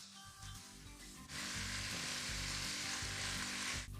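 Sausage and friarielli (broccoli rabe) fry in oil in a pan, a quiet sizzle that swells into a steady, continuous crackle once the greens go in, then cuts off near the end.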